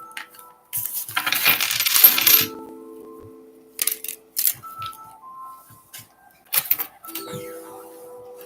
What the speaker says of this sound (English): There's a coin in here. Sounds like only one or two.